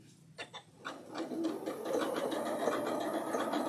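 A sewing machine runs a decorative stitch on wool appliqué, starting with a few separate clicks and then settling into a fast, steady mechanical chatter, close and moderately quiet, with no talking.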